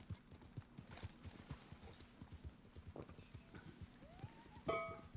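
A horse's hooves clip-clop in a steady rhythm of soft, quiet thuds in the Red Dead video game, with a brief louder burst near the end.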